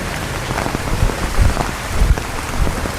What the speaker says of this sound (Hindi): और चारों तरफ से हरा भरा जंगल है, झाड़ियाँ हैं और बरसात भी हो रही है।